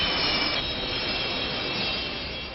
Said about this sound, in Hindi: ब्रिटेन के आसमान में लड़ाकू विमानों की गर्जना हो रही है।